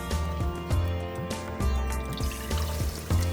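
Water is poured cup by cup onto sugar in a pan to make rasgulla syrup, giving repeated close splashing pours at a regular rhythm.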